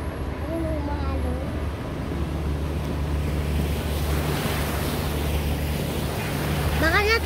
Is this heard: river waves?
yes